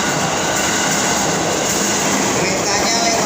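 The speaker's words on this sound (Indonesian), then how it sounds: "ada kereta lewat, mohon maaf mengganggu kereta lewat" A fast train passes close by near a station beside a lab, producing a loud, continuous rushing roar with rail rumble and faint wheel squeal rising toward the end.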